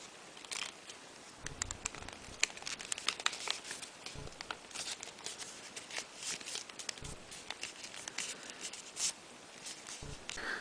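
Sheet of paper folded in half and creased flat while shaping an origami dragon, a run of close, quiet crinkles and sharp crisp snaps scattered across the whole stretch.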